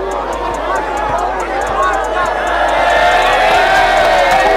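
A streetball crowd cheers and whoops loudly after a player flexes on them. The roar is a dense babble of many voices that swells toward the end, with sharp claps and thuds through it.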